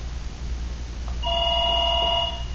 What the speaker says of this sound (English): And you can just ignore the ringing phone.